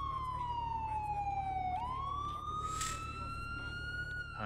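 Police car siren wailing loud and close, sweeping downward in pitch and then climbing back up in a continuous, steady tone, with no talk over it.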